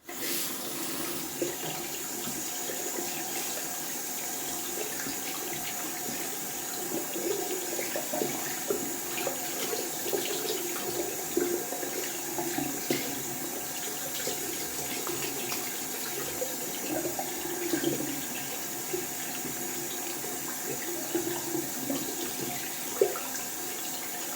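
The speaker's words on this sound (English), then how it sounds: "Let's rinse out the brush as well." A shaving brush full of leftover lather is rinsed under a running bathroom tap during a wet shave, giving a steady, close, continuous rush of water for the whole stretch, with no talking.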